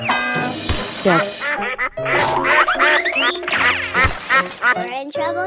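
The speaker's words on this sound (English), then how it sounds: "Duck." A cartoon duck quacks in a 3D animal sliding video game, with bright, bouncy squawks over lively game music, mixed with other playful sounds and voices.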